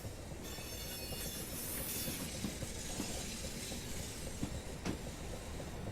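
A Class 465 electric train on the Southeastern line out of London Victoria in Train Simulator 2021 rolls steadily, with a continuous broadband rumble, faint rail clatter and occasional light clicks as it slowly gathers speed.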